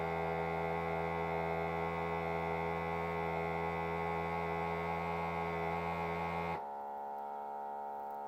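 A steady electric motor hum from a vacuum sealer sealing a bag of top sirloin drones loudly for several seconds, then cuts off abruptly, leaving near quiet.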